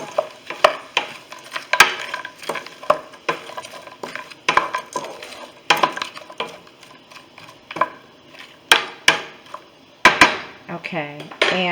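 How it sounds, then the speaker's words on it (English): Spinach being stirred in a pan on the stove, with irregular scraping and clinking of a utensil against the metal at close range, separate knocks spread across the stretch. "And I'll give that a stir."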